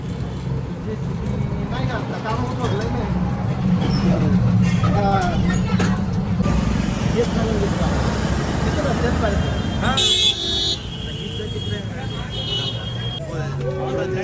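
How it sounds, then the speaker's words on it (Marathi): An auto rickshaw rides through traffic toward the Ganga Aarti in Haridwar, its engine and road noise droning steadily under busy voices and street hubbub, with a brief sharp burst partway through. "आम्ही रिक्षा बोलवली आणि त्यामध्ये बसून गंगा आरतीच्या दिशेने निघालो"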